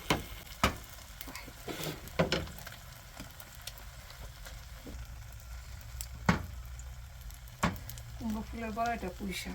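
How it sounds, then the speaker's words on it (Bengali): An egg fries in a pan with coriander leaves, giving a soft steady sizzle broken by a few sharp clicks and scrapes, with a brief voice near the end. "ধনে পাতা দিয়ে ডিম ভাজা হচ্ছে"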